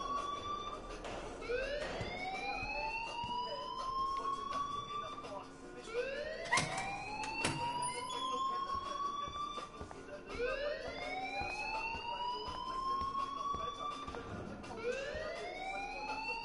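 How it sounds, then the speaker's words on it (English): A video game alarm rings in repeated rising electronic whoops, like a siren, each sweep climbing in pitch and repeating steadily and loudly over a long stretch. "please turn off that alarm since that's your job"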